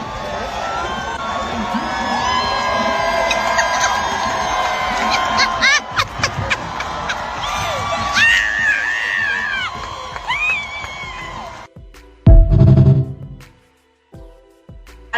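A group of voices screams and shrieks together loudly for several seconds, mixed with yelps and laughter, then cuts off abruptly, leaving a thump and quieter talk.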